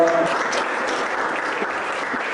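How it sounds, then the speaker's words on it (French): Audience applause at the investiture ceremony of a new AFSTAG president, a brief, full burst of steady crowd clapping at constant loudness. "Je vous demande d'applaudir très fort."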